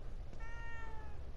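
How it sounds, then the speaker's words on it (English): A single drawn-out cat meow from the horror video game The Evil Within 2, soft and fairly close over a low rumbling background, with no one talking. "A cat."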